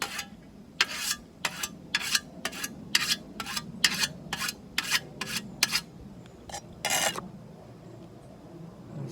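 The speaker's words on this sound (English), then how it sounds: "I'm using a coarse whetstone" A coarse whetstone swept along a scythe blade in quick sharp strokes, about a dozen rhythmic rasping swipes close by, then a short pause and a few final passes.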